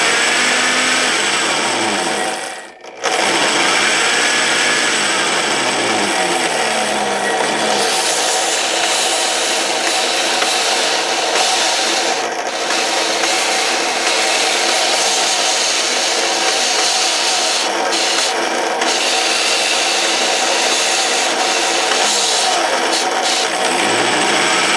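An old variable-speed drill press with worn brushes runs steadily and loudly with a harsh motor whine. It dips briefly near the start, then drones on without speech.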